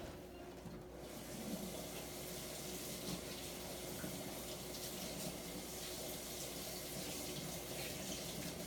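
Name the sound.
water running from sink tap, rinsing leather folio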